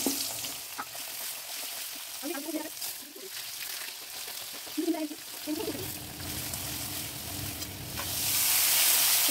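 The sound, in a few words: pointed gourd (potol) frying and sizzling in pan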